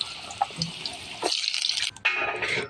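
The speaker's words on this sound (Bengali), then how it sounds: "এই দেখুন আমি এরকমভাবে সব সবজি ভেজে নিয়ে নেব" Sweet potato and other vegetables frying in hot oil give a steady close sizzle and crackle, with brief spitting pops and a short lull before the hiss returns.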